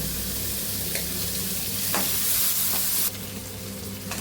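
Medium-size chopped capsicum sizzling in hot oil for lemon rice, with steady frying hiss and a few sharp scraping stirs of a spoon in the pan, close and alone.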